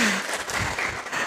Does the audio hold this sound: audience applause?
yes